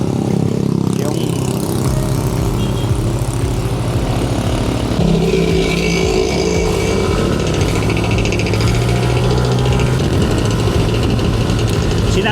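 A Yamaha Aerox V3 scooter engine idles steadily with a continuous low drone and rumble, loud and close throughout, with no other sounds breaking through.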